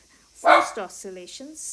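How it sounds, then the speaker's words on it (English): A pet dog barks several times at close range indoors, short sharp yips in quick succession, while a person speaks over the start. "Okay, sorry, that's my dog."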